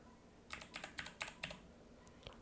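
Typing on a computer keyboard while entering a login username and password during a WordPress install, a quick run of about seven soft, close keystrokes followed by two more isolated taps.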